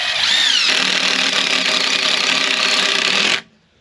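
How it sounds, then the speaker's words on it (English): A power drill drives a 3 3/4 inch construction screw into untreated lumber, whining loudly and steadily, with a brief rising pitch at the start, before cutting off abruptly. "I drilled them at a slight angle, about 1 inch in. And I'm using 3 3/4 inch construction screws."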